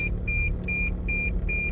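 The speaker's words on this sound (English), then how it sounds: "you're gonna hear the car almost wanting to go" Manual car's mid-pitched engine idling steadily near the driver as the gas pedal is slowly pressed, a low continuous rumble with a repeating high electronic beep chiming about every 0.4 seconds over it.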